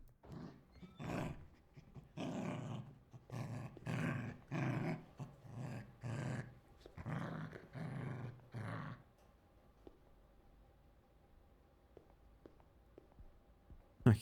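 A dog in a horror video game growls in a series of deep, rumbling bursts, loud and close, with about eight pulses in steady succession before falling to a quiet, hum-filled room tone.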